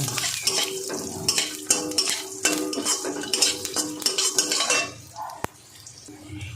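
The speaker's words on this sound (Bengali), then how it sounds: "এই রান্নাটা করতে গেলে মশলাটা এইভাবে ভাজবেন" Cumin and peppercorns fry in a pan while a spoon stirs them in quick, repeated scrapes over a crackling sizzle. A sharp clink follows, then a quieter hiss.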